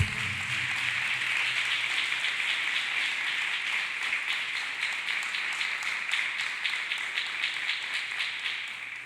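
A church congregation claps hands together in a steady, sustained round of applause that fills the room evenly and tapers only slightly near the end, with no talking over it.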